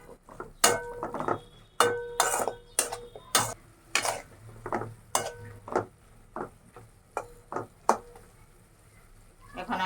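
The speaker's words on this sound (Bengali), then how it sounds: "ভেন্ডি দিয়ে আমি কিছু আবার একটু কষাই দেবো" Okra being sautéed in spiced masala in a pan, with a dozen or so distinct spatula knocks and scrapes against the pan in an uneven rhythm over a low sizzle, close up.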